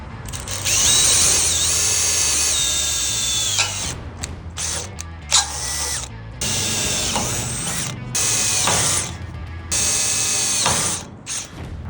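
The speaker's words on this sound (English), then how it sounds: "finish drilling those holes" A power drill bores holes in the steel steps of a Jumping Jack trailer: loud, close whirring and ratcheting in repeated bursts that stop and restart several times.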